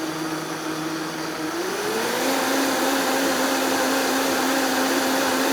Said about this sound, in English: Now, it's as simple as turning the blender on.